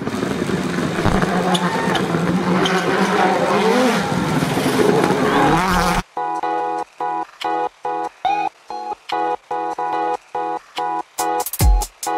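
A Peugeot-bodied rally prototype car is cranked over after a month of sitting, first a dense loud mechanical roar, then a rapid pulsing run of starter bursts and sharp gaps ending in a brief squeal, close up.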